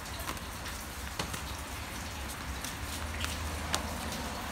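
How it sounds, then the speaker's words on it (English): Steady rain falls outdoors through the whole stretch, a dense even hiss with scattered sharper drop ticks and splats close by, with no voices. "Hopefully you can hear me over the rain."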